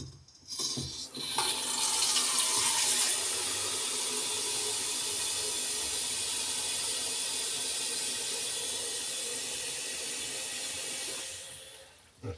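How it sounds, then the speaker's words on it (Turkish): Water rushes steadily from a Grohe joystick faucet after its supply is opened during a cartridge change, a loud, even hissing flow close by that lasts several seconds before cutting off. "Hemen şunu getirip şuradan suyu açıyorum"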